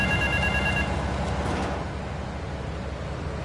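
A telephone rings in the GTA 3 video game, a loud, steady electronic trill with bright tones in the first second, then fading into a washy, noisy game ambience.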